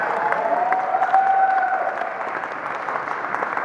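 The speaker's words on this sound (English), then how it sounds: "Give me a round of applause." A convention panel audience applauds, a dense sustained wash of clapping from a large crowd that holds steady for several seconds and eases slightly toward the end.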